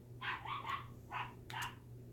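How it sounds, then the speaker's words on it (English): Small dogs barking and yipping in short bursts, somewhat distant and faint. "Sorry about the loud barking in the background."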